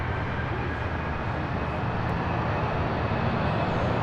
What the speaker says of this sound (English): This is United Airlines Flight 32 taking off to Tokyo Narita on a 787-10